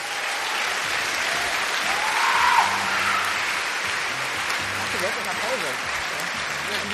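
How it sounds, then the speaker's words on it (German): Thunderous applause at a Science Charlottenburg event at TU Berlin welcomes a speaker, Dr. Robert Kretschmer, as a steady, full clapping roar from the audience, with some murmured voices mixed in toward the end. "Begrüßt mit einem donnernden Applaus Herrn Dr."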